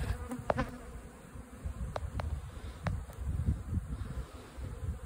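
Honey bees buzz around hives, several insects droning faintly nearby, with occasional louder passes close by.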